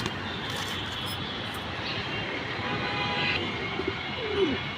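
Military pigeons, two top-quality hens, coo softly in a home loft: faint low murmurs rise over a steady background hiss, with a few brief higher notes near the end and no talking.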